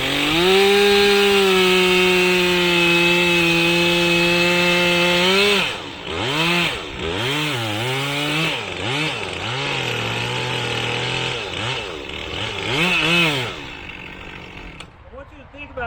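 A chainsaw cuts into a tree outdoors, running at a steady high whine at first and then revving up and down repeatedly as the cut goes on. The engine cuts off near the end.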